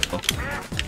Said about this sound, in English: I hear quacks.